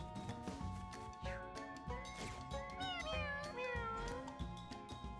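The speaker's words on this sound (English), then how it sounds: "Let's try to kill the cat." Cat meowing in a video game, a run of repeated, insistent meows with rising and falling pitch layered over steady game music, fairly clear and close with no talking.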